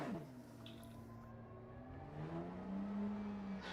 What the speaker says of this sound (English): Engine back up.